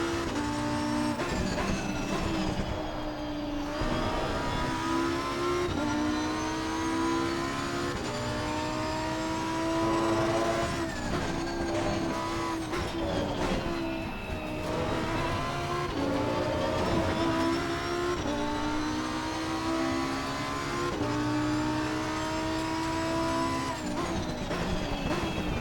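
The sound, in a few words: Lamborghini Huracan EVO engine racing in Assetto Corsa Competizione video game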